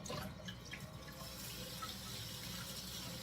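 Warm tap water runs steadily into a kitchen sink during dishwashing, a continuous close splashing rush with no voices.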